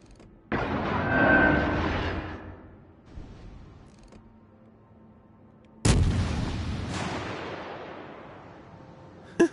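Heavy warship guns fire in World of Warships: Legends, a big booming salvo followed by a rumbling decay, then a second sharp blast and another close report a moment later.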